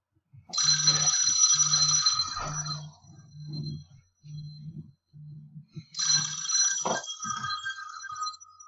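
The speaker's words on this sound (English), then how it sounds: "Sorry, I have a phone call." A telephone rings in two bursts of bright repeated trills, the first lasting about two seconds and the second starting near six seconds. Between the rings comes a steady low periodic hum, and no one speaks.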